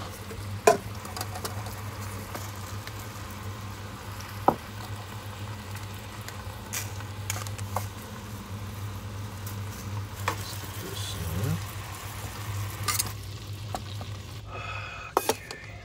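Meat for birria tacos cooking in a pan, a steady low sizzle with occasional soft clicks and taps of utensils, close and continuous with no talking.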